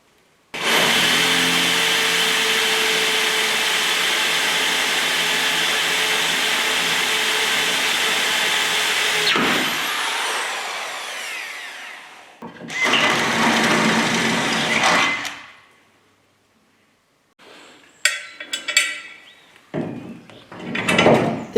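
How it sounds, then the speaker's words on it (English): A power drill whines steadily for several seconds, then bites through a car transporter's metal chassis in shorter bursts with pauses between, close and loud. "Drill it, drill it, drill it"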